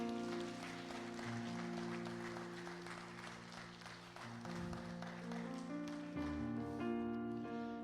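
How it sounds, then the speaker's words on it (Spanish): A church congregation applauds at a worship service, a steady broadband clapping wash that continues throughout beneath loud sustained music. "Denle un aplauso a Dios"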